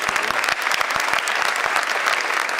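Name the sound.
audience applause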